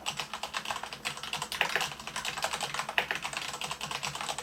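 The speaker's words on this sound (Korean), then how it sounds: "지금 치는 거는 기계식 키보드 중에 가축에 해당됩니다" Rapid, continuous clacky typing on a mechanical keyboard with linear switches, keys striking in a fast, uneven rhythm close up with no talking.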